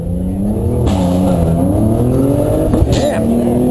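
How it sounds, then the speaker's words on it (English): A Nissan 350Z daily driver launches in a drag race, its engine note sustained and loud with rising harmonic tones through the run, no talk over it. "That's what happens when you drag race your daily driver."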